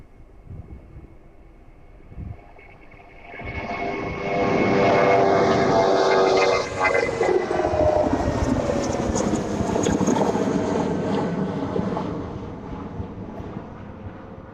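A jet airliner at East Midlands Airport rolls and climbs away on takeoff, its engine roar swelling loud and broad, holding steady, then slowly fading, with wind buffeting the microphone.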